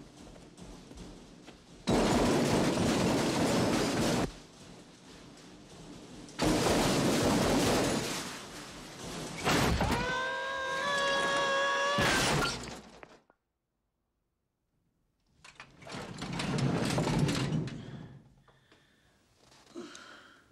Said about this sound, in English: That was the sound of a tool chest falling down the stairs.